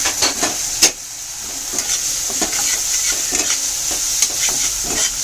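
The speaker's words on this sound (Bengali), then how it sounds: "ভালো করে এবার ভাজা ভাজা করে নেব" Onion, garlic and ginger frying in a pan, a steady bright sizzle broken by regular scraping and knocking strokes of a spatula stirring, close and without talk.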